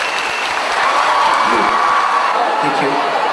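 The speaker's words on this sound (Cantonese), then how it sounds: "希望你哋而家用你嘅掌聲幫我一齊多謝佢哋" A concert audience at a large arena show bursts into sustained, dense applause mixed with cheering and whoops, loud and continuous throughout.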